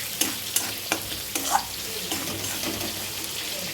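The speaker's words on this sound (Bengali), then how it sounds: "পেঁয়াজটা ভালো করে ভেজে নিচ্ছি" Onions frying in oil with cumin give a steady, close hiss of sizzling, punctuated by a few sharp scrapes and clicks of a spatula against the pan.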